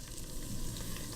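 Two tablespoons of flour with butter melt together in a pan on the stove, giving a close, continuous crackling sizzle for a short moment with no talk.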